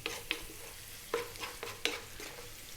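Spinach frying in a pan over medium heat. Several sharp scraping stirs break up a quiet background sizzle, with nobody speaking.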